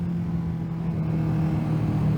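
A Kawasaki Z650 motorcycle pulls in first gear, its steady engine drone rising slightly over a brief stretch, heard from the rider's position amid wind noise, with no talking.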